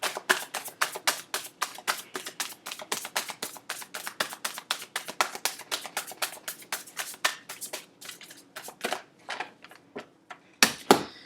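A deck of tarot cards is shuffled by hand close up, producing rapid rhythmic slaps and riffling taps that run steadily, then slow and scatter into a few louder irregular snaps near the end.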